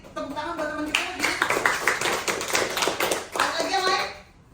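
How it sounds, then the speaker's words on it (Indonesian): A classroom of students claps for a classmate in a lively burst of many hands that builds, holds and then tapers off, with children's voices mixed in. "Oke, beri tepuk tangan buat teman kita lagi."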